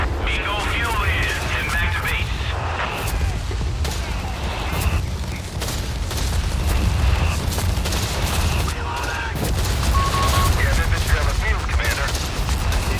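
Machine guns rattle in a 3v3 Company of Heroes-style match on the Mignano map, dense bursts of gunfire and booms running continuously under steady talking.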